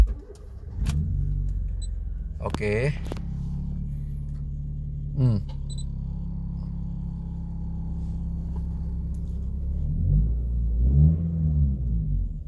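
A 2008 Honda City VTEC with manual transmission cranks and starts, then settles into a low, steady idle rumble heard from close by, with a few sharp interior clicks and a brief spoken word.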